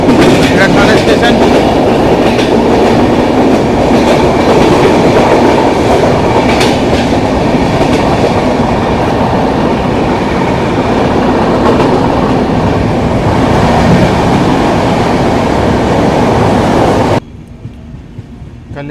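A Mumbai CSMT–Howrah AC Duronto Express rolls through the night near Thane and Kalyan, with a loud, steady roar and clickety-clack of wheels on rails that cuts off abruptly near the end.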